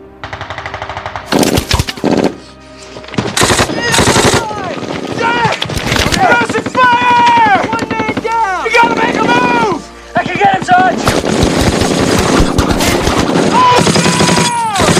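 German machine guns fire in a World War II battle in the Bastogne forest: loud, repeated rapid bursts mixed with heavy explosions, whistling rounds and chaotic combat noise, with voices underneath, for fifteen seconds.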